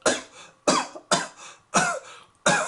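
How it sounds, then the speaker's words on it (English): Five short, dry coughs from a man in a steady rhythm, close by, with brief pauses between each one. "is lightly coughing as he sits behind the table in the prison"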